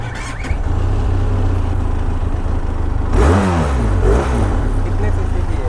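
Benelli TRK 500cc motorcycle with its stock exhaust holds a steady idle nearby, then revs in two sharp bursts before settling back.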